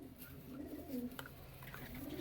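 Pigeons of the Panjabi Malwai breed coo softly in a faint, low rolling murmur, a couple of gentle calls over two seconds with no speech.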